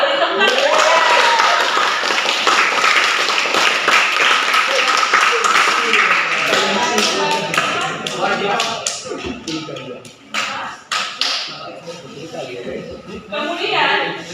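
A classroom of students applauds a student group for active work on their worksheet, a burst of dense clapping and taps that thins and fades after several seconds, mixed with chuckles and murmuring voices.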